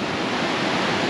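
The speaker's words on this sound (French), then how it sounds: "bon la rivière c'est un torrent" Rushing mountain torrent in Kyrgyzstan, roaring as a steady, dense broadband hiss of churning water, close and unbroken, with no voices.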